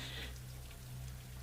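Steady light rain patters as a continuous ambient background effect during a tabletop horror role-play session, soft and even with no voices.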